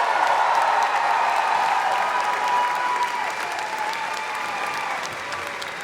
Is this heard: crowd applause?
yes